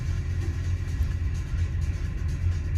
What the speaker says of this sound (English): With the headphones, you can hear the bass still of that big engine